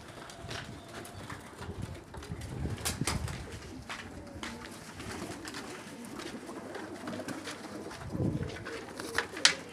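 Pigeons cooing on a rooftop, soft repeated coos mixed with rustling and scattered clatter, fairly close in a busy outdoor setting.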